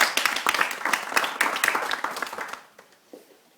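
Audience applause at a community talk, brisk close clapping for about two and a half seconds that quickly dies away to a few scattered claps.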